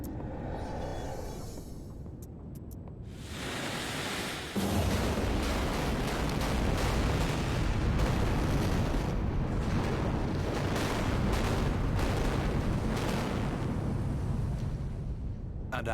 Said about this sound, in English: They're seconds away from a massive explosion